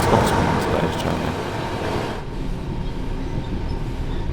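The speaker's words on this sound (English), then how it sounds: "The 66 really isn't that loud when travelling at full speed" A Class 66 diesel locomotive runs at full speed on the East Coast Main Line in a train simulator, a steady rolling rumble with track noise that thins slightly partway through, alone without talk.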